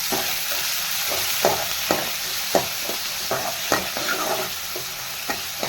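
Chopped tomato sautés in hot oil for chapati kurma, a steady close sizzle with repeated clicks of a stirring spoon against the pan, and no voices.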